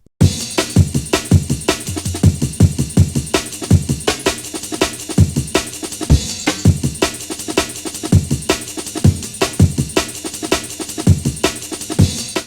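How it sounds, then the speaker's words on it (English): Amen break and hot pants break chopped and arranged into a fast jungle drum pattern, with dense, busy kick and snare hits and ghost notes in a rapid, syncopated rhythm, loud and continuous throughout. "So I've arranged the Amen break using MIDI"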